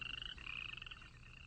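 Frogs croak close by in a rapid pulsing chorus, one loud rhythmic call throbbing over a steady high trill, with no voices present.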